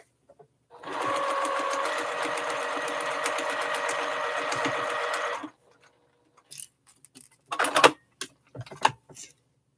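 A sewing machine runs a quarter-inch seam on a quilt block, a steady close whirring burst of about five seconds, followed by quiet handling clicks and rustles of fabric.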